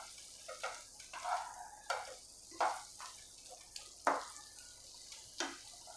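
Potatoes and peas being stir-fried in a pan, with spoon scrapes and stirring strokes over a soft, steady sizzle, heard up close with no talking.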